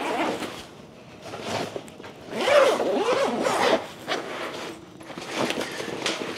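Zipper of a Mosko Moto Mule adventure roller luggage bag being pulled to expand it, several long rasping zip strokes close up, rising and falling in bursts with no talking.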